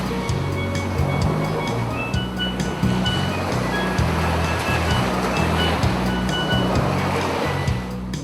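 Ocean waves break continuously at Daytona Beach, a loud, steady surf roar that washes on without pause from start to finish, with a faint low rhythmic thump running underneath.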